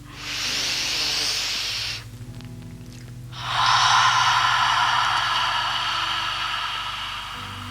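Slow deep breathing during a qi gong exercise, a long airy inhale hiss followed by a pause and another long, stronger breath, close and steady over a low background hum.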